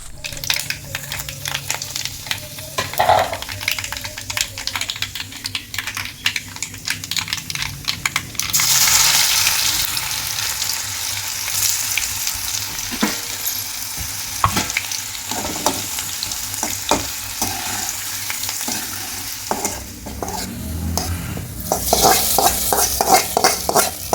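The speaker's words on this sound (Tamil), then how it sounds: "நல்லா கொதிக்கிற எண்ணெயில் தேவையான அளவுக்கு கடுகு, கொஞ்சமாக இடித்த பூண்டு, அப்புறம் காஞ்ச மிளகாய் போட்டு நல்லா வதக்கி" Mustard seeds pop and crackle in hot oil with crushed garlic and dried chillies, a steady loud sizzle with sharp spits and occasional stirring clicks.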